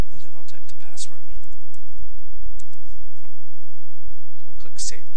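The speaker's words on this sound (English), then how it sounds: "And then I'll type the password." Password being typed on a computer keyboard: a quick run of light key clicks, close and fairly quiet, mixed with soft breathy voice sounds and a couple of brief hissing noises.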